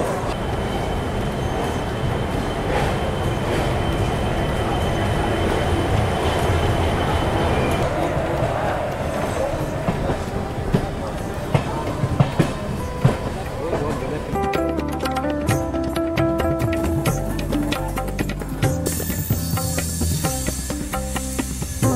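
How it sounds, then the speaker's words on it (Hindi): An Indian passenger train pulls out of Lucknow Junction, heard from inside a sleeper-class coach: a low, continuous rumble and rattle of the carriage, with clacks and squeals from the wheels growing as the train gets moving. "तो फाइनली अपने तय समय से 3:20 लेट हमारी ट्रेन अब लखनऊ जंक्शन से निकल रही है।"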